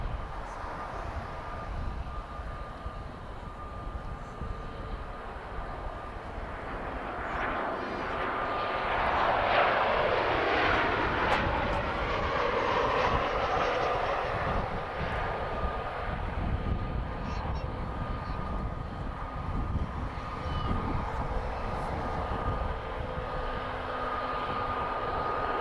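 An inbound Ryanair jet arrives at Lisbon Airport, its engine noise building from a distant hum into a loud roar that peaks near the middle before settling into a steadier rumble, with no talk over it.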